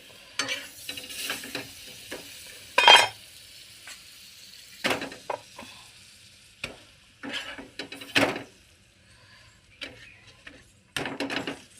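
Spinach paratha roasts on a pan at home, with soft sizzling and intermittent scraping and turning sounds in short, irregular bursts.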